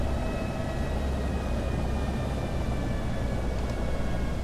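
Steady, dense engine and rotor roar of a simulated helicopter in X-Plane 10 during a power-on autorotation with throttle dropped, a continuous broadband drone holding at an even level throughout.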